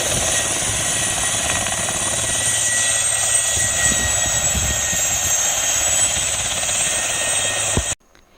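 An attack helicopter runs with a loud, steady turbine whine and rotor noise for about eight seconds before cutting off abruptly, with no voices present.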